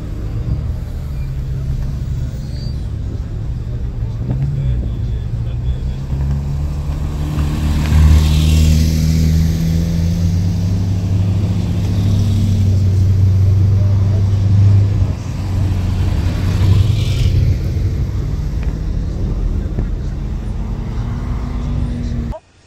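A performance car driven hard on the Folembray circuit during a driving course, its engine a loud, continuous low rumble that swells and eases through the run, with people talking over it inside the cabin.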